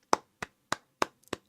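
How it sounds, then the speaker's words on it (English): Five sharp, evenly spaced hand claps, close and fairly quiet, with no voices. "I think that deserves a round of applause"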